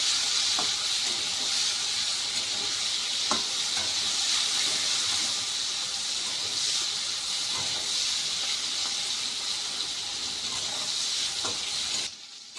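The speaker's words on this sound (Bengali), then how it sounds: "এবার মাছগুলোকে আমি ভেজে নেব।" Shrimp frying in oil in a pan, a steady loud hiss and sizzle with faint scattered pops and crackles throughout, heard up close and alone, dropping off sharply at the very end.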